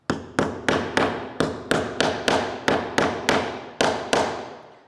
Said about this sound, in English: So you're going to flip that whole thing over and pop these into this side, and these ones will also get pounded in.